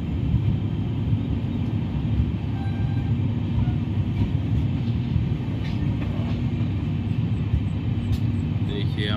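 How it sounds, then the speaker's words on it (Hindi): The Asarva-Jaipur Superfast Express pulls out of small Jhawar railway station, a steady loud low rumble of wheels and carriages heard from on board, continuous throughout with no clear talk. "हमारी ट्रेन निकल रही है झावर रेलवे स्टेशन से"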